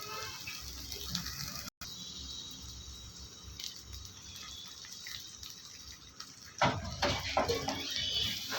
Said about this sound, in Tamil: இந்த மிக்சி ஜார் கழுவி கொஞ்சோண்டு தண்ணி சேர்த்துக்கோங்க